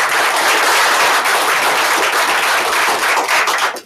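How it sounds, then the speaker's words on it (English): An audience gives a round of applause at a meeting announcing names, a dense, loud burst of clapping that fills the whole moment and fades only at the very end. "Give them a round of applause."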